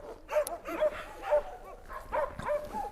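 Tall hunting laika dog at a kennel, barking and yipping in a rapid series of close, moderately loud barks with whiny edges, about five or six in three seconds.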